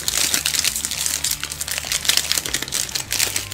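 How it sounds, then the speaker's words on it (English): A Japanese Magic: The Gathering booster pack from Ikoria, Lair of Behemoths being torn open, its foil wrapper crinkling and crunching loudly and continuously up close, with no talking. "Nothing sounds quite as good as a pack being opened as like a crinkling"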